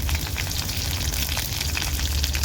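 Three finely chopped green chillies go into garlic already browning in hot oil, giving a loud, steady, crackling sizzle that holds evenly from start to finish with no talk.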